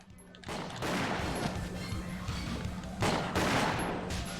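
Sustained bursts of gunfire in Winback: Covert Operations, rapid and loud, with heavier volleys as barrels are shot up during a boss fight against Commander Dan, a grenade-throwing enemy.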